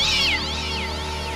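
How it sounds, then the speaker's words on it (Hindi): A black cat voices a loud, close, strained meow-like cry that slides downward and then trails off into a sustained rough tone, heard alone without talking. "ये इतना गुर्रा क्यों रही है?"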